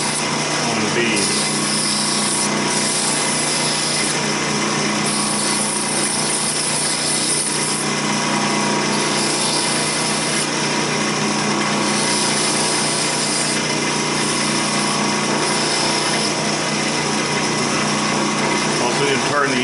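A wooden baby rattle spins on a lathe while a tool shaves the facets off a bead, giving a steady, loud high whine with scraping texture. It continues unbroken for the whole stretch, with short dips where the cut lightens.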